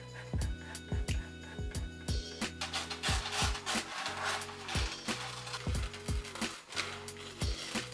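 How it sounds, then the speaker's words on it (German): A circle of baking paper, heat-resistant to 230 °C, is cut to fit a pot for Persian tahdig, producing a quick, regular run of crisp cutting and scraping strokes, close and alone. "Den Kreis schneide ich etwa 1 cm größer als den Topfumfang"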